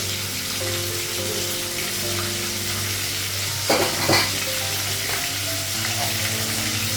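Eggplant frying in oil in a home kitchen pan, a steady close sizzle under a low constant hum, with a couple of brief stirring clatters midway.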